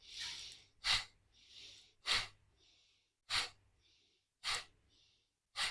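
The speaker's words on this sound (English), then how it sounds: "And exhale all the way." Deep, forceful exhalations from yoga pranayama breathing, each a loud breathy burst roughly every second and a half, with quieter airy inhales between them, close and clear with no talking.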